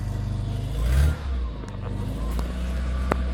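A Lada Samara engine, idle for about a week and with a flywheel gear that grinds, starts with a short loud surge and rev near the one-second mark, then settles into a steady low idle with a few clicks.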